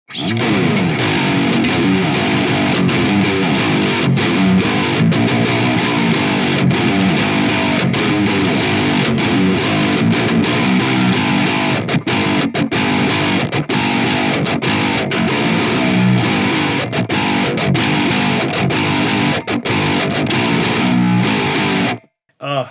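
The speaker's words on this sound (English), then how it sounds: "Now for some high gain tones" Heavily distorted electric guitar on the bridge pickup, with heavy-gauge strings, plays loud, saturated high-gain chords and riffs continuously, with brief choppy gaps between phrases.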